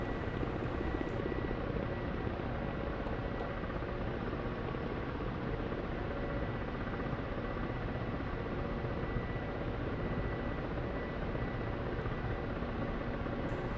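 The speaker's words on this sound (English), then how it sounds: "we're here in a K-50 Black Shark, which, at least for now, is my favorite helicopter to fly." A Ka-50 Black Shark helicopter in the DCS flight simulator, its steady, loud rotor and engine roar droning on without a break, close and constant throughout.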